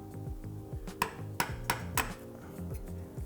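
Light mallet taps on a chisel paring dovetail tails in a wooden box, four crisp knocks spaced about a third of a second apart, sounding over a steady low background hum.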